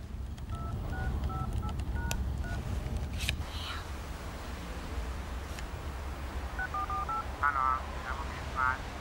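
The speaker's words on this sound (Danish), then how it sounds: "Vi prøver å ringe henne i stedet." Telephone dialing tones from a key press in a Norwegian children's animated story, several short beeps at the start and more near the end amid background noise and faint voices.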